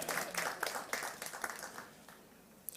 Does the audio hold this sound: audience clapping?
yes